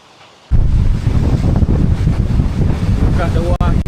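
Strong wind batters loose zinc roof sheets in a seaside fishing village, heavy gusting roar and rattling close to the microphone, with rough water nearby and a voice talking over it.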